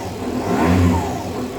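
Aprilia SR50 Factory DiTech scooter engine revved up after sitting for 15 years, a short, close buzzing rev that swells to a peak and then eases back toward idle, with no talk.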